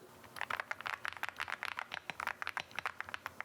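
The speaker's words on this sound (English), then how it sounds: "I'll show you guys what the keys sound like if you're into that kind of thing. It's more of like a creamy sound." Rapid, even typing on a custom mechanical keyboard at a desk setup, with soft, muted, creamy keystrokes clicking close up and alone in a quick steady rhythm.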